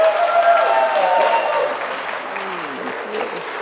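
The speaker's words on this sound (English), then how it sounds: "So I'm going to ask you with a round of applause." A church congregation at a Sunday service breaks into a round of applause, dense clapping that is loud at first and gradually thins out, with a voice speaking over the fading claps.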